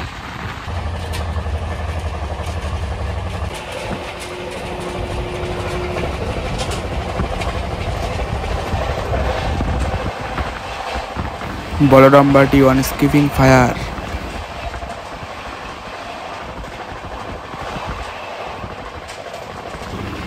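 The 12337 Shantiniketan Express rolls along the rails with a steady low rumble, heard beneath someone speaking over it. A brief, louder rattling burst comes through about midway.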